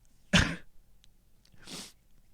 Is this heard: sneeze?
yes